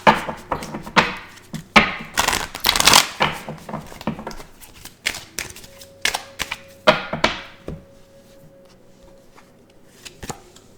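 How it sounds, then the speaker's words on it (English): Tarot cards are handled and shuffled close by: a run of crisp snaps, riffles and light taps on a surface, dense at first and thinning out, with a faint steady tone partway through. "Let's go ahead and go into some tarot cards and see what this is about."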